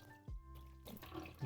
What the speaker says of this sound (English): I'm gonna pour out some of the water from our